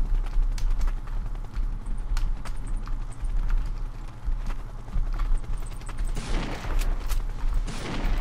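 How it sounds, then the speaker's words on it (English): Rapid pistol shots crack in a Counter Strike Online match, sharp repeated reports over a steady background hum of game noise, with a denser burst of noise near the end. "he's trying to get me with the pistol"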